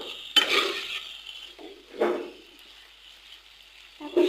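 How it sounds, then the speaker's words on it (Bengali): Chalta (elephant apple) pickle with sugar is stirred in a pan. Close, gritty scraping strokes come in a few separate bursts over a faint background sizzle. "তারপর কিছুক্ষণ নেড়ে নেব।"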